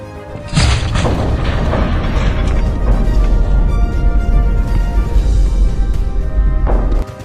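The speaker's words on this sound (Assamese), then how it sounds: "বিস্ফোৰণটো ইমানেই শক্তিশালী আছিল" A massive, deep atomic bomb test explosion erupts after a short pause, then a long sustained rumbling roar that stays loud for several seconds before cutting off.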